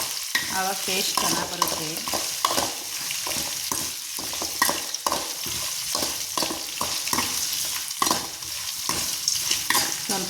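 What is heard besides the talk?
stir-frying until dry and browned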